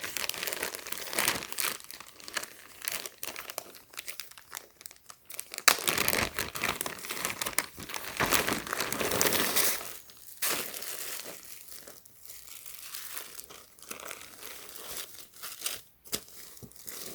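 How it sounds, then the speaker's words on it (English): A Ziploc plastic bag holding a clothing item crinkles and rustles as it is handled and opened, a long run of close, crackly crumpling with brief pauses and sharp tearing-like bursts. "Ziploc bag."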